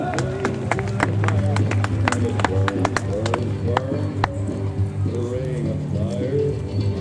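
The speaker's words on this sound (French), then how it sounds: "Quelques applaudissements, merci pour eux" Spectators at a horse show clap in scattered, sharp bursts while a loudspeaker announcer keeps talking over them, with crowd murmur in the open-air arena.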